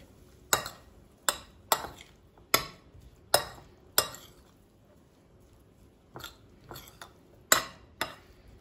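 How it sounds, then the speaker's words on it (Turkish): A spoon stirs chopped tomatoes into crumbled çökelek cheese in a bowl, giving a quiet run of sharp clinks and scrapes against the bowl at an uneven rhythm, with soft pauses between strokes. "Şimdi çökeleğimize eklediğimiz domateslerimizi iyice karıştırıyoruz"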